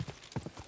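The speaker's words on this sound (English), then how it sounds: "Slow down the horse." Horse hooves clip-clop in a steady walking rhythm in the medieval game Kingdom Come: Deliverance II, fairly quiet against a dense ambient background with no talk.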